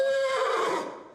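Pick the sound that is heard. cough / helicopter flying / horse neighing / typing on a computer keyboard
horse neighing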